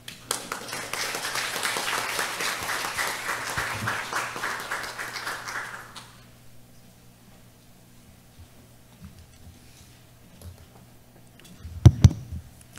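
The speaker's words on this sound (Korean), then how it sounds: "우리 김진아 교수님을 여러분의 큰 박수로 모시도록 하겠습니다" An audience at a lifelong education symposium in Ulsan claps together for about six seconds in a steady, fairly close round of applause, which then fades to near silence before a few faint taps.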